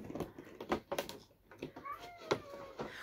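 A pet cat cries with a few short, faint meows at close range, mixed with light tapping and handling noises in an indoor room.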